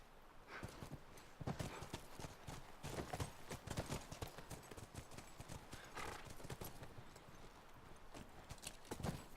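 Horse hooves clip-clop quickly and steadily, close by, with a neigh or two mixed into the hoofbeats, in the video game The Last of Us Remastered.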